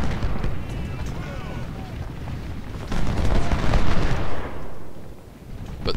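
Civil War-era battle in Ultimate General: Civil War: booming artillery and rolling gunfire swell and fade in a loud, continuous barrage, with a person talking over it.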